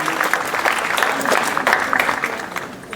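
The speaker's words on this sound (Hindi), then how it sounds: "एक बार जोरदार तालियां साहिबा के लिए।" An audience claps for a top-ranked student at a school award ceremony honouring toppers at Baba Ramdev Public School, a dense, steady patter of many hands at moderate distance, sustained for a few seconds.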